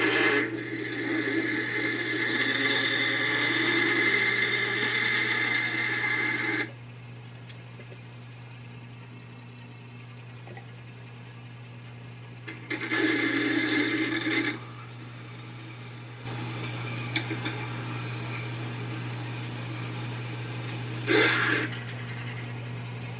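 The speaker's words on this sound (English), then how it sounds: "This is a letter N drill, which is slightly undersized" A letter N drill, slightly undersized at 5/16 inch, bores a hole in metal on a lathe in a machine shop, grinding and rasping steadily in two loud bursts over a constant motor hum, with quieter humming stretches between them.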